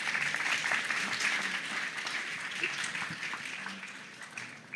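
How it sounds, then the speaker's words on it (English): Conference audience applauding a panel, a steady wash of clapping from a crowd at moderate distance, ending in a sudden loud thump. "give our panel a round of applause"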